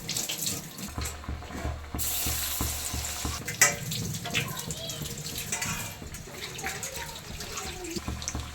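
Masala vada sizzling in hot oil, a steady crackling hiss of frying with scattered pops and bubbling, close and fairly loud throughout, with a brief clink partway through.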